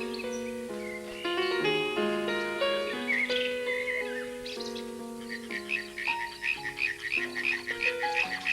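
Many frogs croak in a steady chorus at a pond, dense overlapping calls with rhythmic pulsing croaks building toward the end, close and fairly loud with no talk.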